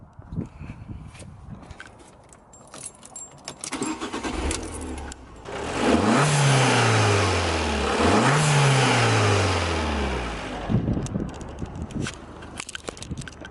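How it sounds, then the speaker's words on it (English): An Abarth 500 fitted with a Ramair induction kit fires up and then revs hard twice in quick succession, each rise and fall loud and close, before settling back toward idle. "the noise alone, it sounds amazing"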